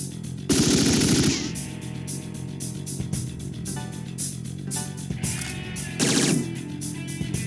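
A gun attack in the video game Digital Devil Saga: loud rapid machine-gun bursts rattle out in several volleys, with heavier blasts near the start and again toward the end, over battle music and no talk.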